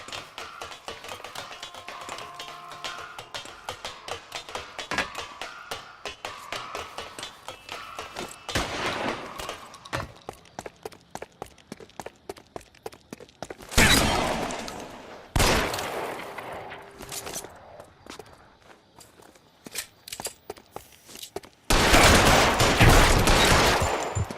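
Gunfire in the L.A. Noire video game: rapid volleys of sharp shots in fast rhythmic bursts, broken by several louder noisy blasts and short lulls, moderately close, with no speech.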